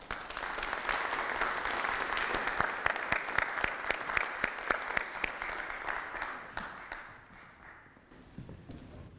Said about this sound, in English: Let's have a warm round of applause for Art.